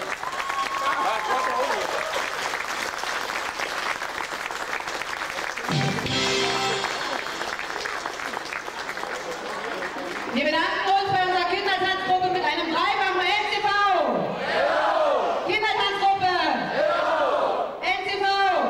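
An evening audience applauds at first, then loud cheering and shouting voices break out over clapping and continue to the end.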